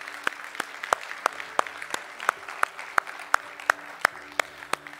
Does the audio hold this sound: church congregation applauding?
yes